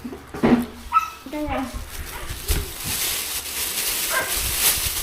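A dog barks and yips a few times nearby, with whimpering notes between, while a person talks over it.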